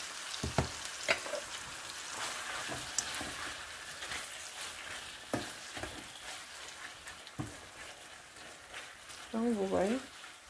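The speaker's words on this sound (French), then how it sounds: "Et puis, je vais laisser frire." Pasta frying in a pan with a pinch of salt, a faint steady sizzle with occasional taps and scrapes of a utensil, and a brief voice near the end.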